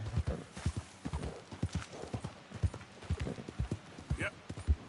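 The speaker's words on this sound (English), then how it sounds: "Don't even know if I've got anything to feed the horse yet." Horse hooves clip-clop steadily in Red Dead Redemption 2, a close, rhythmic run of hoofbeats with a brief whinny, while someone talks over them.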